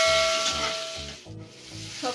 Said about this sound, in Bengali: টমেটো আর কাঁচা লঙ্কাটাকেও তেলের সাথে নাড়াচাড়া করে 1 মিনিট ভেজে নেব।